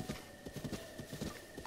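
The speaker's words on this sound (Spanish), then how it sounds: "Sí, tengo el caballo." Horse hooves galloping in the video game Zelda: Breath of the Wild, a rapid steady clip-clop rhythm of repeated hoofbeats, close and fairly loud, with no speech over it.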